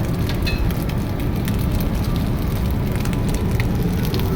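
Julienned onion and capsicum sizzle steadily in a hot pan for prawn noodles, a continuous crackling fry with no pauses.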